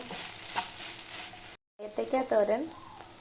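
Plantain stir-fry being stirred in a pan after salt is added, a soft scraping sizzle for about a second and a half, a brief gap, then someone talking over faint pan noise.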